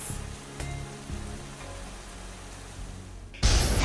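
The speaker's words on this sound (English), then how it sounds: "Thunder roared, lightning flashed, and rain poured down in torrents." Thunderstorm with pouring rain: a low rumbling wash of rain and distant thunder rolls, ending in a sudden loud, bright crash of thunder right at the close.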